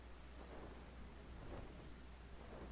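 Steady, faint rainfall in the Final Fantasy XIV video game forms a continuous even wash of noise with no distinct drops standing out.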